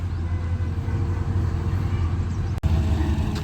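The engine of a KARTAR 4000 thresher runs steadily at a low, rumbling idle after starting, heard close and continuous, with one brief dropout.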